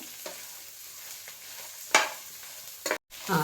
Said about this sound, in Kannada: ಸಣ್ಣ ಉರಿಯಲ್ಲಿಟ್ಟು ಫ್ರೈ ಮಾಡಬೇಕು, ಕಿನ್ನೆ ಉರಿ ಹಿಡಿದು ಫ್ರೈ ಮಾಡಿಕೊಡು